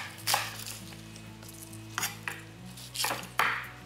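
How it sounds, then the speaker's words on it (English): A knife chops through silverbeet on a board, with about five crisp, separate thuds spaced irregularly and close up, with no talking. "Just chop it through the middle."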